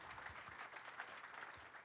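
Faint, steady applause from an audience at a B4 launch event at AYA Earth Partners, a dense wash of clapping heard from a distance and running through the whole moment.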